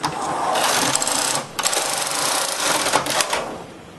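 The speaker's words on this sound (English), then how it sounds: "push all of the main bed needles into hold and knit across slowly" A knitting machine carriage slides slowly across a row with all main bed needles held, giving a continuous loud rasping whir that briefly dips in the middle before resuming, close and steady without speech.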